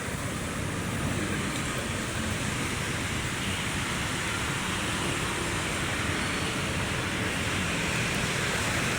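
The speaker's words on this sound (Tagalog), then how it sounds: "Umulan na naman." Rain falls outdoors by Manila Bay as a dense, steady wash of noise that holds at a constant level for the whole stretch, with no voices.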